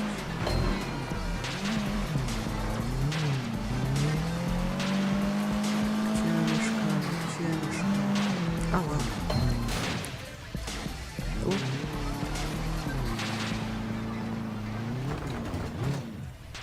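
A car races through Hong Kong streets in the Sleeping Dogs video game, its engine roaring steadily with rising and falling revs and repeated tire squeals and skids as it corners hard.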